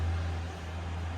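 A forklift drives down an alleyway, giving a steady, low engine rumble with a constant hum, close and fairly quiet, with no talk over it.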